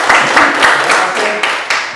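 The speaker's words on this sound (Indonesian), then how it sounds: "Oke, tepuk tangan kita semua" A school biology class gives a round of applause, with brisk, fairly close, loud clapping in rhythmic pulses for a couple of seconds.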